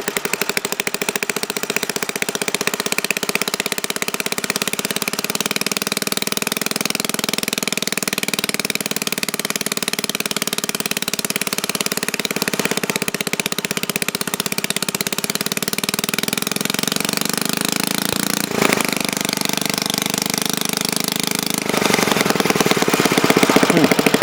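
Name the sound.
antique Briggs lever start engine running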